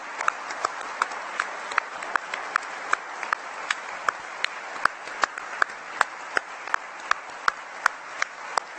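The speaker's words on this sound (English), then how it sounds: "And so I'd like to applaud everyone here who is a part of it" An audience at an interview event at the Computer History Museum gives steady applause with distinct individual claps standing out, sustained through the whole stretch.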